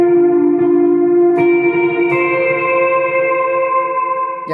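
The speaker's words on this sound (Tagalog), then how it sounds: "Lagyan natin siya ng konting overdrive." Electric guitar played through an Mvave Tank G pedal with shimmer reverb and a touch of overdrive: two or three strummed chords ring out into a thick, slightly gritty ambient wash that sustains steadily without talk.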